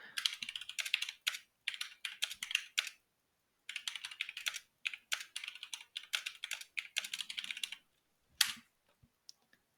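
Fingers type on a computer keyboard in quick, close bursts of clicking keystrokes, separated by short silent pauses, ending with a few isolated taps.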